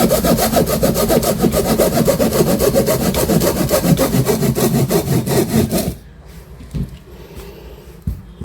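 A 9-inch pull saw rasps rapidly back and forth through wood in fast, loud, close strokes for about six seconds, then stops, leaving a few faint knocks.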